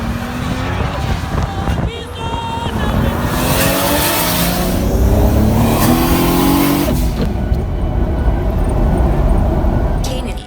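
A self-tuned turbocharged Toyota Supra running 20 psi of boost with an R154-type manual gearbox revs hard, its engine note climbing and swelling loud and close over several seconds, with road noise and some wind around it.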